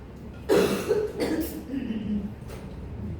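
A person coughs once sharply, then gives a few rougher throat-clearing coughs, close and moderately loud.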